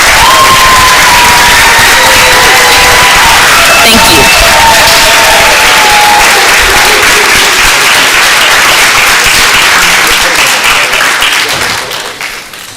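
Loud, sustained applause with cheering fills a school board session honoring district winners and students of the year, a dense roar of clapping that gradually fades near the end.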